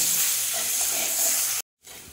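Potatoes fry in hot oil with turmeric and salt, giving a steady broadband sizzle that holds evenly before cutting to a brief silence and resuming.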